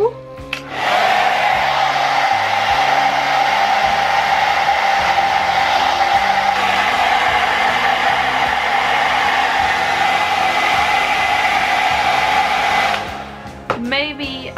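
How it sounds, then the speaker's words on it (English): A hair dryer blows steadily on dreadlocks while getting ready for a night out, a loud continuous whir running for most of the clip before clicking off near the end. "Now we're gonna blow dry my hair a bit more and then continue with the makeup."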